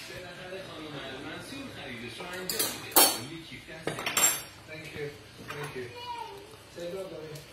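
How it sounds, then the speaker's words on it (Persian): A spoon scrapes and clinks around a pot of ghormeh sabzi as fresh herbs are stirred into the cooked stew. The utensil knocks come in a few sharper bursts over a steady kitchen background, and voices murmur faintly. "در نهایت همش میزنم."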